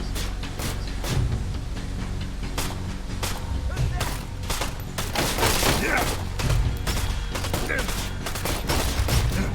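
Gunfire in the Immortal Legacy VR game: a rapid, irregular string of sharp, loud shots and thuds, some clustered in quick bursts, continuing for about ten seconds.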